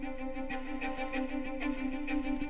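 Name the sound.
string pluck sound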